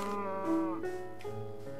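A cow moos in the video game Minecraft, two or three clear harmonic lowing calls in a row, close and fairly loud, with no talk over them.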